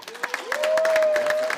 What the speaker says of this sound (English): Can y'all give a round of applause for that?